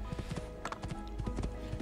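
In Assassin's Creed II, a horse runs over rocky terrain, its hooves striking in a brisk, regular clip-clop close up over a steady low background hum.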